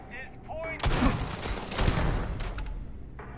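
Bursts of gunfire in Starfield, a sudden dense volley of shots with booming impacts that swells, dips and swells again, with a voice talking faintly around it.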